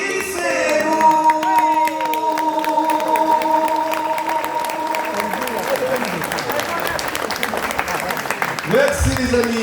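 Crowd applause and scattered cheers at a concert in Havré, Belgium, rising as sustained held musical notes fade out; clapping continues loud and dense throughout.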